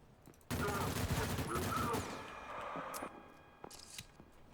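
A mech pistol fires in a rapid, submachine-gun-like burst of loud, closely spaced shots in the ADACA video game, followed by quieter mechanical clicks and scrapes.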